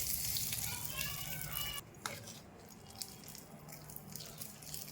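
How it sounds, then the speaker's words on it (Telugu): A sharp burst of spices tempering in hot oil for tomato chutney hisses loudly, then settles after a couple of seconds into quieter scattered crackles and pops. "గిన్నెలో తీసుకొని ఇలా పోపు పెట్టుకోవటండి"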